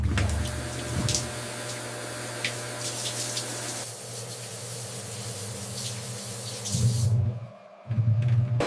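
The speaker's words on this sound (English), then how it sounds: "As the apples tumble through the washing machine," An apple washing machine in a pie factory tumbling apples through water, giving a steady spraying, running-water rush with machinery hum, a brief dip near the end and then the low drone resuming.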